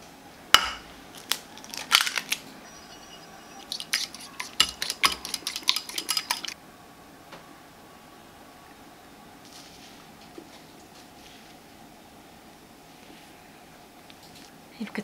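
A utensil clinks and scrapes against a bowl while lightly mixing scone batter with added sugar, a quick burst of taps and stirring strokes for several seconds, then quiet with soft background sounds.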